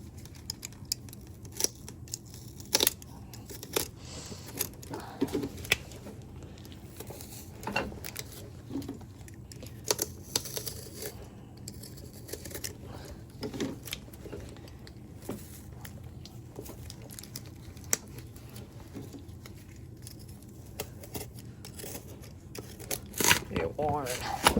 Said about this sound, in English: It's pretty satisfying when all the stitches are cut.